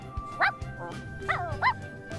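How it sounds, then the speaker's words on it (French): Small puppy from The Sims 4 giving a few short, high yips and bow-wow barks in a quick cluster, fairly close and moderately quiet over a soft game background. "Voilà, moi, ce sera un petit chiot."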